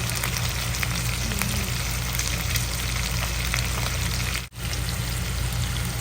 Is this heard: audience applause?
no